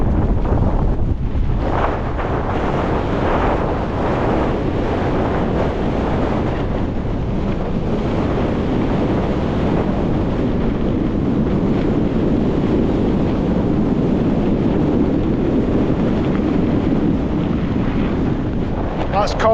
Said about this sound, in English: I was hoping the wind might ease a bit, but it's not.